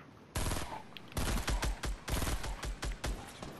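Gunfire in the battle royale game Fortnite: loud, close bursts of automatic shots, a sustained burst followed by a series of short rapid volleys, with no voices.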